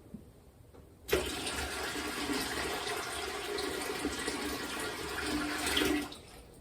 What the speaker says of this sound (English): I need to add some more water to the pot.